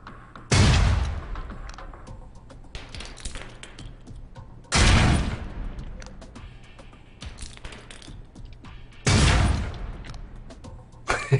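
Concussion grenades go off in the video game Alpha Protocol: three heavy, booming blasts spaced about four seconds apart, each with a rumbling decay, over quieter ambient game sound between them.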